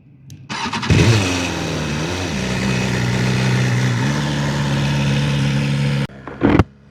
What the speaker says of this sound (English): Let's go show you guys what it actually feels like to ride this bike.